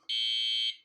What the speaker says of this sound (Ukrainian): Біп-біп-біп, гудок 2,